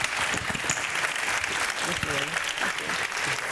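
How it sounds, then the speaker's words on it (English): An audience at a Demo Day fireside chat applauds, a thick wash of hand claps running steadily throughout, with a voice briefly audible partway through. "Let's hear another round of applause for Andy and Clara."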